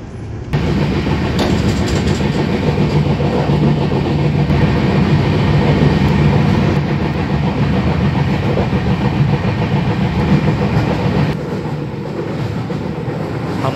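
Tejas Rajdhani Express train 20502 running on the Anand Vihar to Agartala route, a loud, steady rumble and rattle of the rolling carriage that continues throughout, with no voices.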